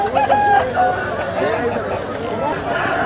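A rooster crows amid the busy chatter of a Friday country chicken market at Timiram near Anakapalli, with other fowl clucking and people talking throughout.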